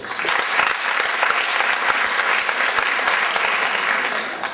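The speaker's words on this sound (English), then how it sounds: "Let's give them another round of applause." An audience applauds children after their presentation at the unveiling of a peace pillar, with sustained, even clapping from a sizeable crowd for several seconds.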